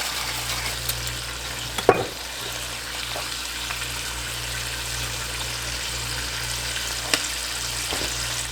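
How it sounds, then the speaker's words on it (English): Meat sears in a hot pan with a steady, fairly loud sizzling hiss, broken by a few sharp knocks and clinks, no one talking. "while the meat is searing, I'm just gonna get a really good sear on one side"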